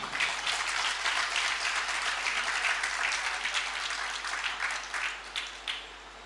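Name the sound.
audience applause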